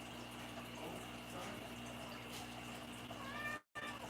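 A cat meows faintly indoors over a steady background hum of a running water pump and trickling liquid.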